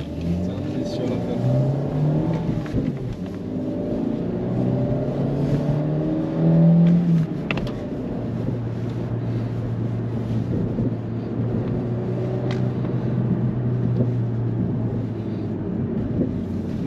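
A used Audi A3 petrol car drives along, its engine droning and revving steadily at moderate loudness beneath ongoing conversation inside the cabin.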